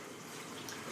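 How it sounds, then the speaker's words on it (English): Blackberry lemonade over ice pours from one container into another, a steady, soft liquid splash running continuously through the brief moment with no talking. "Juice from this container into this container"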